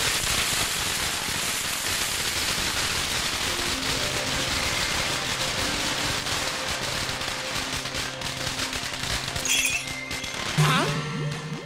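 Firecrackers crackle and pop in rapid, dense bursts throughout a comic film scene, steady and close, with music tones and background voices rising near the end.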